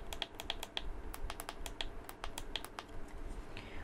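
Quick, crisp clicks from the analog sticks of an iPega wireless retractable controller being pressed down, repeated rapidly in a close, quiet sequence with no talking.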